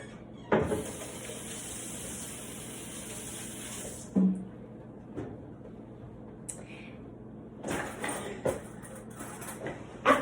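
A kitchen tap runs in a steady hiss for about four seconds, then shuts off, followed by scattered splashes, clinks and handling noises as hands are washed, with faint voices in the background.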